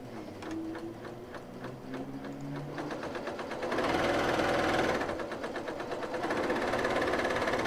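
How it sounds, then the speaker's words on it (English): A sewing machine stitches fabric with a steady, fast mechanical whir and rattle that starts partway through and runs loud and close to the end, following softer handling noises. "Drop our foot down, and let's sew this one."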